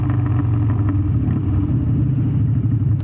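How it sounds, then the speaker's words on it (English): Motorcycle engine running steadily up close with a rough mid-range drone while the rider clutches in and kicks down through a downshift, revving loudly with no talk over it. "Clutch in, kick down, rev, let off clutch."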